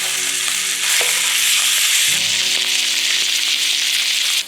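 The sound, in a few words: elk steaks searing in a hot pan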